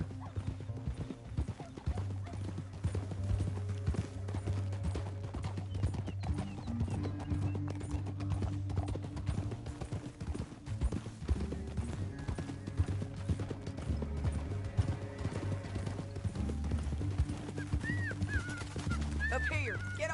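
Horse hoofbeats in a video game, steady clip-clop rhythm over a low droning music bed, with talk running over them.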